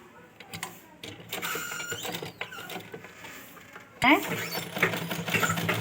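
A sewing machine stitching a fancy gown for a two-year-old girl runs in short mechanical bursts of rapid clatter, nearby, with a louder, busier run toward the end.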